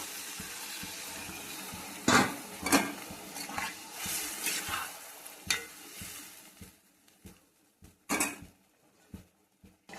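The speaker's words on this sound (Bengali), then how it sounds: "আমার কষানো হয়ে গিয়েছে, এখন জল দিয়ে দেবো অল্প।" Spices with coriander powder sizzle in a pan, then a little water goes in, bringing bursts of loud hissing and stirring clatter that fade to quieter, intermittent scraping and bubbling.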